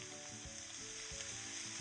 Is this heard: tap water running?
no